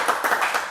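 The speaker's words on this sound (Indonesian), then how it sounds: "Tepuk tangan." Hand clapping from a small group at an Indonesian podcast session, a steady flurry of quick claps, close and fairly loud, with no talk over it.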